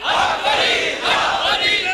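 A large crowd at the Pakpattan Sharif shrine of Baba Farid chants slogans in loud, rhythmic surges of massed voices, close and continuous.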